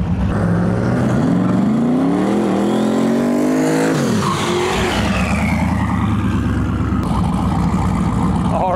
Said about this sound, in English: He was on the brakes at the top end of the track there.